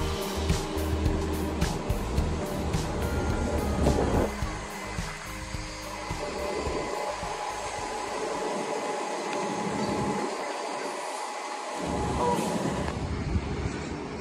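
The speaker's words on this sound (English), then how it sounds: "that elevated platform is where the train leaves" WES commuter rail train at an elevated platform, with a steady loud rumble of the train and station noise throughout, low rolling tones fading and returning near the end.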